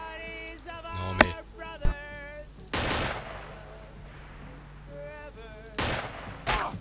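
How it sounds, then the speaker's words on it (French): Gunfire in the multiplayer shooter ARMA 2: several sharp, loud shots and short bursts ring out with long echoing tails, some near and some farther off, while players talk over the action. "Il y a des tirs."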